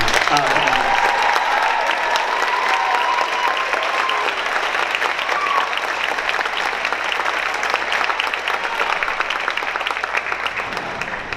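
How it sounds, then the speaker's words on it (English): An audience at a Twinsburg High School band concert gives the seniors a steady, dense round of applause that fills the room at an even level for its whole length, with a faint voice briefly audible near the start. "can we please give a round of applause for all of our seniors?"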